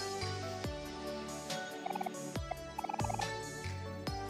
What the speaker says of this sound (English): there's a big giant chicken here